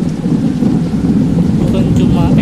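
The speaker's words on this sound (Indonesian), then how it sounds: "efek hujan itu benar-benar terasa real bro" Steady heavy rain with a low thunder rumble fills the night driving scene in Bus Simulator Indonesia, a dense continuous roar with no clear pauses.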